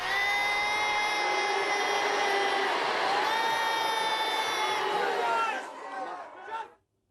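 A large awards-show crowd at the Billboard Music Awards sustains a loud, continuous roar of booing and shouting, holding for over five seconds before fading out abruptly.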